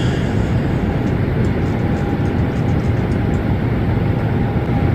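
A Boeing 737 MAX flies in Microsoft Flight Simulator, producing a steady, loud, broadband engine roar with a thin whine on top. It holds constant from start to finish with no voices.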